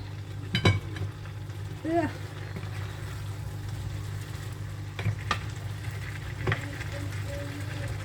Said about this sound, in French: On mélange tout ça. On mélange bien.